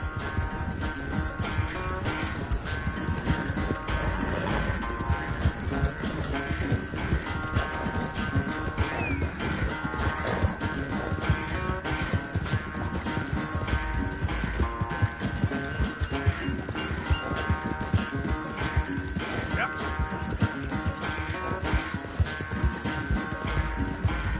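Galloping horse hooves in the Red Dead Redemption 2 video game during a race, a fast continuous clatter of hoofbeats under game music, loud and close throughout.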